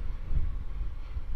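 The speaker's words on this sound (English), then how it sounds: "Very windy." Strong wind buffets the microphone at the Starbase launch site, a steady low rumble with gusts that swell and fade, loud and close throughout with no other sounds standing out.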